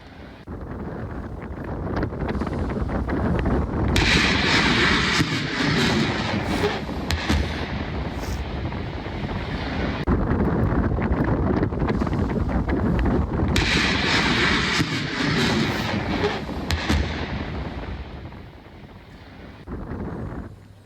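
A BrahMos missile test-fired from an Indian Navy warship at sea makes a loud, rushing roar in two long surging swells, buffeted by heavy wind noise across the microphone.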